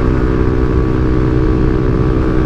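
Steady, continuous engine drone from a Honda ADV 150 scooter cruising along a bypass road, with low rumble and wind noise holding constant throughout, no voices.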